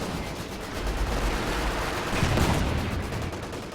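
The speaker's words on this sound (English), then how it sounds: "That's supporting fire barrage" Artillery barrage in Company of Heroes 2, a supporting fire strike: a dense, continuous wash of rumbling explosions and crackling fire that swells slightly toward the middle and holds steady throughout, with no voices.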